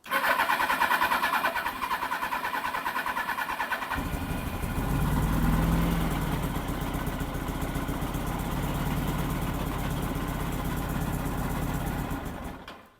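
Suzuki GSX1100 motorcycle engine running on full choke, a steady loud rumbling idle that settles into a deeper, even throb before cutting off at the end.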